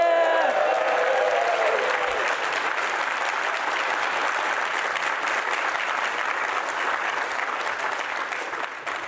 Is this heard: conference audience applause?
yes